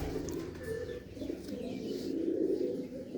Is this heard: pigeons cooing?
yes